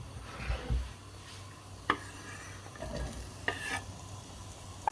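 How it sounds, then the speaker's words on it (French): Chopped onions frying in a pan for a minced-meat bolognese-style tart, stirred with wooden spoons: a soft, steady sizzle with a few sharp wooden knocks and scrapes, close and fairly quiet, with no talking. "On remue bien les cuillères en bois."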